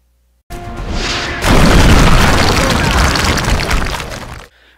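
A rocket launches in the tactical video game X-Com, a hissing whoosh followed by a loud roaring explosion with crackling debris that rumbles on for several seconds before cutting off sharply.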